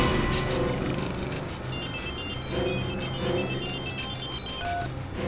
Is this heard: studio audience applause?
no